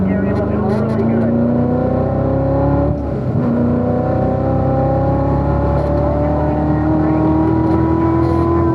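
A race car engine on a track in Pahrump, Nevada drones loudly and continuously, pitch rising as it accelerates, with a brief dip when shifting.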